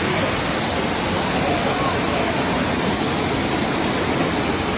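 Heavy rain and running water in Angola make a loud, steady broadband rush, close and continuous with no breaks, like water pouring and streaming over ground.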